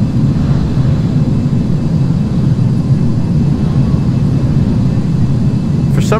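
Steady, loud engine roar and whir of a BAC One-Eleven airliner turning on the runway at Narita in a flight simulator, a constant low rumble with no break.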